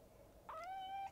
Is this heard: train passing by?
no